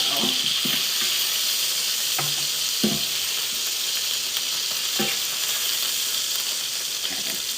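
Vegetables saute in a hot pan with a continuous, bright sizzle and hiss, broken by a few soft scraping stirs, close and fairly loud, with no talking.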